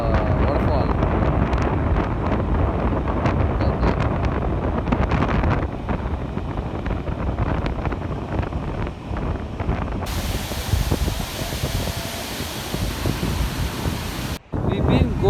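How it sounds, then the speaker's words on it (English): Gokak Falls in monsoon season roars as a broad, constant rush of falling water, heavily buffeted by wind noise, with voices talking faintly underneath. "Here is a better view of the waterfall."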